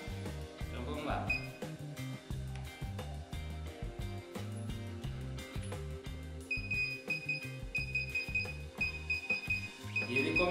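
A DJI Phantom 3 drone emits a run of short, high electronic beeps during its firmware update, repeating steadily through the second half over rhythmic background music and a speaking voice.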